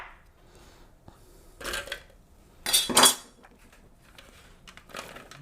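A dull kitchen knife chops onions on a board, with scattered knocks and a few louder clustered scraping cuts, close up and without talk.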